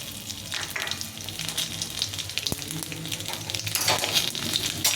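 Dry red chillies, two bay leaves and panch phoron crackle and sizzle in hot oil for khichuri, a steady close frying hiss with occasional stirring scrapes and a single sharp tap partway, growing slightly louder toward the end.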